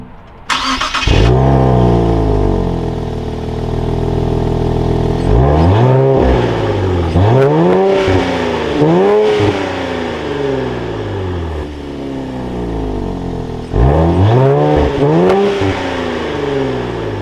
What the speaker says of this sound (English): inside the Nismo Nissan Z, keeping my foot on the brake, we can go ahead and fire it up